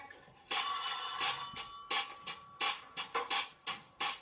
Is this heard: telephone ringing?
yes